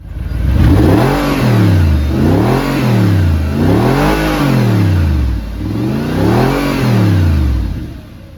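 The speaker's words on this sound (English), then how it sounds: "Revving it out to the red line." A stock, naturally aspirated Audi R8 V8 engine revs hard to the red line again and again, each pull rising in pitch and falling back, loud and close without any talking.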